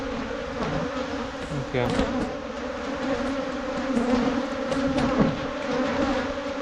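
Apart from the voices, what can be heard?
honey bees buzzing at an open beehive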